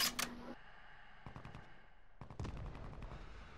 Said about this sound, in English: He's shooting from a distance on him.